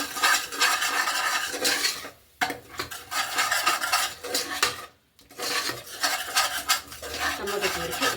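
Spices, chilli powder and salt being stirred into a tomato curry for Andhra-style tomato rice, a steady scraping of a spoon against the pan with brief pauses, close and fairly loud, no talk.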